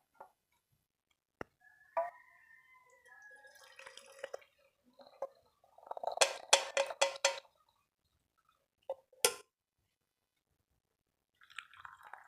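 Masala chai is strained and poured into a cup, producing a short burst of trickling, splashing liquid in the middle, set among quiet kitchen clinks and faint scattered noises.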